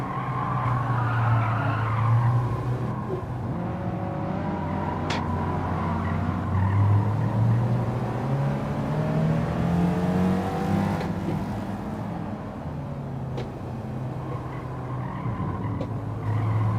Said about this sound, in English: How many speeds do you think this Porsche is? This old Porsche with 79 or 97 horsepower or whatever?